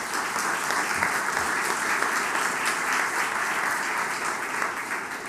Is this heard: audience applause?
yes